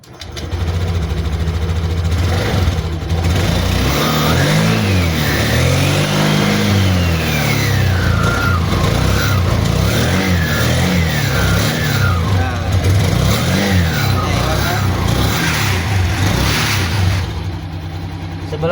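A Honda scooter with a CVT transmission is started and revved repeatedly during a workshop repair, its engine rising and falling in loud, close surges over a steady idle.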